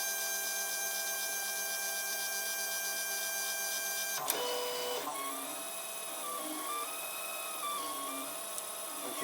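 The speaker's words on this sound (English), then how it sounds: "Going to start coming in for actually printing this" A 3D printer with an auto-leveling probe starts printing a 10 mm calibration cube. A steady motor whine first, then shifting stepper tones and small movements as printing begins, close and clear with no talk.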